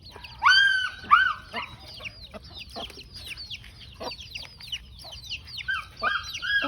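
Several small chickens in a countryside backyard cluck and squawk in short, irregular bursts at close range, with a few sharper rooster-like calls and quiet stretches between them.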